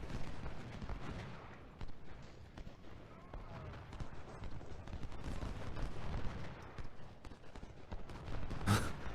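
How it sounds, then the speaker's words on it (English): Ultimate General: Civil War battle at Gettysburg, with dense crackling musket fire from a point-blank brigade volley amid city fighting, a continuous rattling fusillade of many overlapping shots at moderate level throughout. "Literally point blank range volley."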